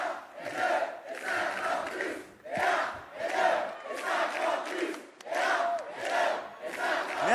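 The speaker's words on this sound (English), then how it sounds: "5 years more, the crowd is chanting." At a French presidential election results rally, a large crowd chants "five years more" in loud, rhythmic waves, repeating about six times with brief pauses between each chant.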